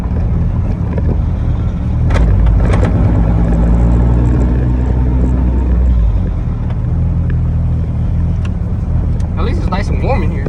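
A car on full street slicks driven home after a fuel leak repair, a steady engine drone and cabin rumble heard from inside, with people talking over it.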